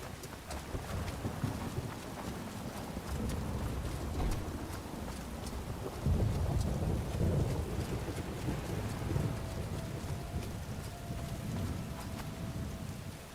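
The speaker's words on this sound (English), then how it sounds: "So I must say that this place is very, very raining." Steady rain and low rumbling thunder fill a stormy scene in the video game Morrowind, a dense continuous wash with a heavier roll of thunder midway.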